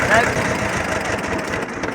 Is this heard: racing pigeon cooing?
no